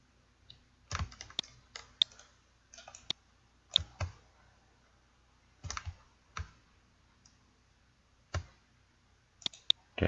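Computer mouse double-clicking while modeling a firearm in Autodesk Maya, sharp close clicks in scattered pairs and small bursts with quiet gaps, alone with no talk.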